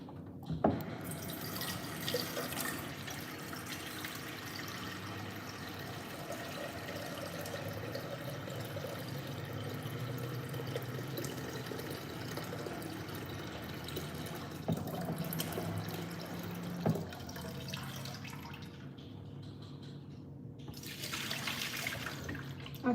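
Water running steadily from a kitchen tap while cooking, a continuous close splashing rush that holds for over twenty seconds, with a few clinks and knocks from the sink near the end.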